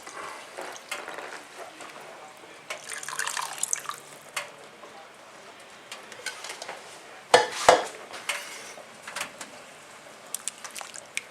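Beetroot stock poured into a soup pot of beetroot, orange and tarragon soup, with clinks of pot and utensils, a liquid splash and drips, and scattered knocks across the stretch, close and fairly quiet, no talk.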